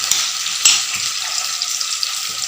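Mackerel (ayala) frying in hot oil in a pan while being stirred, a bright continuous sizzle with a few sharp spatula knocks against the pan.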